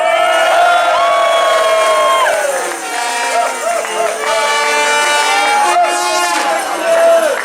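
A carnival crowd cheering and whooping loudly at an indoor gathering, with bursts of shouting, a strong tonal sweep like a horn or amplified voice across the middle, and talking mixed in.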